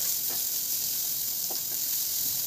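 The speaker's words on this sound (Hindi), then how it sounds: "थोड़ा सा अदरक डालकर भून लेना है।" Ginger and chopped onion frying in a pan, a constant soft sizzle and hiss with a couple of faint stirring scrapes, quiet and without talk.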